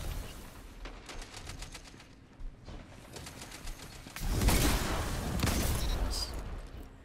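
Gunfire in the video game Destiny 2 comes as rapid bursts of crackling shots, then a louder, denser stretch of noisy firing and impacts in the latter half.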